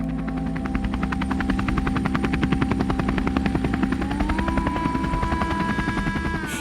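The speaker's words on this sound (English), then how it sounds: "Planes take off from Saigon." Aircraft taking off from Saigon in April 1975, heard as a loud, steady, rapid rhythmic chop of rotor blades under a droning engine. A rising whine enters toward the end.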